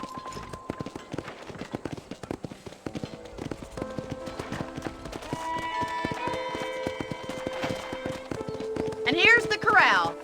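Rapid clip-clopping horse hoofbeats in Red Dead Redemption run steadily with game-like music and tones behind, ending in a burst of whinny-like sound.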